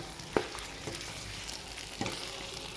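Chicken cashew fry sizzling in a pan on high flame, a steady crackling hiss with a couple of sharp stirring clinks, close up and without talk.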